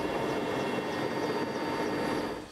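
Air Force helicopter in flight, a steady broadband rotor and engine roar, moderately loud and continuous throughout, with no voices.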